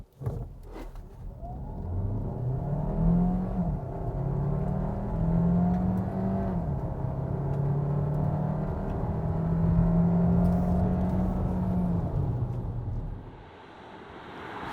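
A Kia Sorento PHEV SUV accelerating from 0 to 100 km/h, heard from inside as a steady rising whir with engine tones climbing through gear shifts, then easing off near the end, with no talk.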